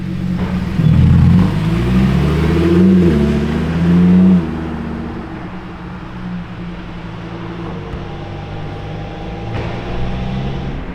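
A red and silver Lamborghini Huracán STO with a V10 engine, heard as a loud deep rumble that swells in a couple of rising revs over the first few seconds, then settles into a lower idle-like drone.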